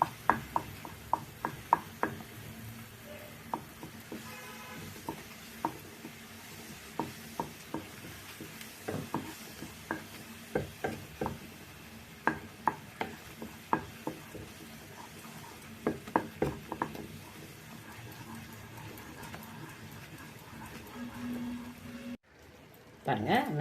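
Powdered gram flour mixture stirred into a pan while cooking a dessert, with a spoon scraping and tapping the pan in repeated irregular knocks over a soft steady sizzle, fairly close, ending with a brief cut.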